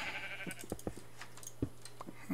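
Minecraft sheep give a string of brief bleats over a faint constant background hum, soft and spaced irregularly with light ticking game sounds mixed in.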